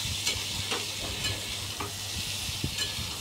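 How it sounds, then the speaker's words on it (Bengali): Pointed gourd and potato pieces frying in a pan, a steady close sizzle with soft scraping stir strokes and occasional clicks of a spatula against the pan. "আর এদিকে পটল আর আলু আমার একদম প্রায় ভাজা কমপ্লিট।"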